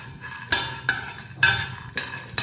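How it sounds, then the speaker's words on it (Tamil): Tamarind, garlic and onion sautéed in a kadai, with a spatula scraping and clinking against the metal in four or five distinct strokes over a faint sizzle, close and loud with no voices. "லைட்டாக நம்ம வதக்கிக்கிறோம்."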